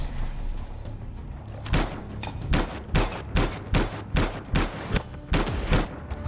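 Gunfire in the video game Anthem, a run of about a dozen punchy shots in quick, uneven succession over a rumbling background of combat noise.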